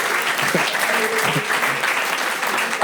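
Audience applause rises as a dense, continuous burst of clapping that fills the whole short stretch, with a few voices briefly heard underneath.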